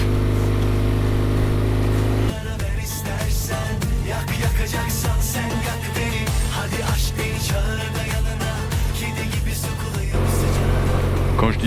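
Motorcycle ridden along a rough dirt track in Turkey: a loud, continuous engine drone sits close to the mic throughout, joined by busy rattling and clattering once the bike hits the rougher surface.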